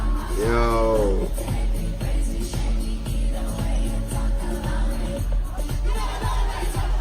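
Concert crowd at a show in Madrid, singing along loudly, with a voice carrying a melody over steady crowd roar and music throughout.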